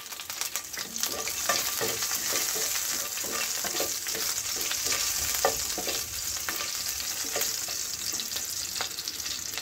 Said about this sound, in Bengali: তেলটা গরম হলেই 1/4 চামচ কালো জিরে আর 3টে চেরা কাঁচা লঙ্কা দিয়ে দিলাম।